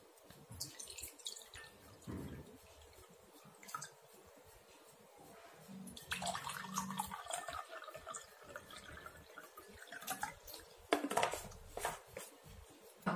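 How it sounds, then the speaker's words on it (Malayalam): Water is poured into two glasses in a quiet indoor setting, giving short trickling pours and a few drips with pauses between them. "നമ്മൾ ആദ്യമേ രണ്ട് ഗ്ലാസ്സിലേക്കും ഒരേ അളവിൽ വെള്ളം ഊറ്റുക"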